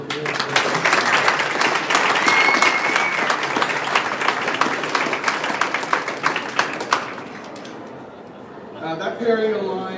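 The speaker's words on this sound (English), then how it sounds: "big round of applause for National University." Dense applause from the audience at a moot court competition event, steady crowd clapping for several seconds before tapering off, followed by a voice beginning to speak.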